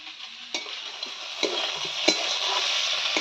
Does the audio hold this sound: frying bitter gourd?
yes